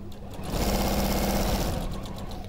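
A sewing machine runs in a continuous whirring, rapid stitching burst that swells and then eases slightly, close and clear, with no speech.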